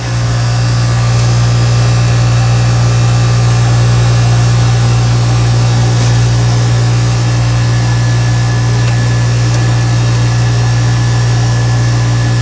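A cotton candy machine spins steadily as it warms up, giving off a loud, constant motor hum with a strong low drone that holds unchanged throughout, with no voices.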